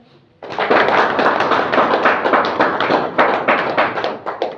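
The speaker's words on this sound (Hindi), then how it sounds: "इसके लिए जोरदार तालियां सर" Loud, dense applause from an audience at a product presentation, breaking out abruptly and continuing with a busy patter of close, irregular claps throughout.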